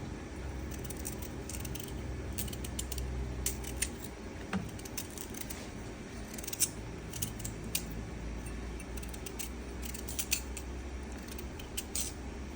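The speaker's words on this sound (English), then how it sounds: "I have 2 sweet potatoes. I'm gonna peel it." Two sweet potatoes being peeled by hand, giving a run of small close scraping clicks and light taps over a faint steady background hiss, with no speech.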